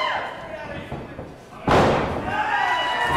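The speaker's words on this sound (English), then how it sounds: "Body slam in the middle of the ring." A wrestler is body slammed onto the ring in a hardcore wrestling match, giving one loud, sudden thud with crowd noise and commentary running under it.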